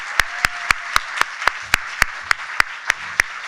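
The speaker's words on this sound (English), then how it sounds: "Could we have another round of applause, please, for our grantees and our collective grants committee?" A crowd applauds grantees at a grant awards celebration in a dense, steady wash of clapping, with sharp louder claps standing out at an even rhythm, fairly close.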